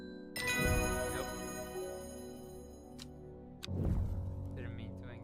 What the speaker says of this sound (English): Didn't mean to ring that bell again